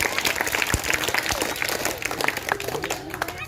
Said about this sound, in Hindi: तो एक बार जोरदार नंदिनी जी के लिए ताली हो जाए